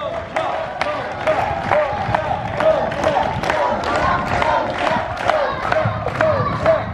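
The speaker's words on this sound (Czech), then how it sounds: "Mohli bychom si teď ukázat, jak jste fandili v Paříži nebo před televizema, ať už to potleskem nebo křikem." Large crowd of taekwondo fans in Pelhřimov cheering, with rhythmic clapping and shouted chants, loud and energetic, the claps pulsing steadily through continuous voices.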